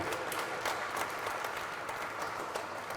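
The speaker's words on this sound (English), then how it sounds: "Give them a round of applause" Steady applause from a crowd at a celebration honoring freedom fighters fills the whole stretch, a dense patter of many hands clapping without pause.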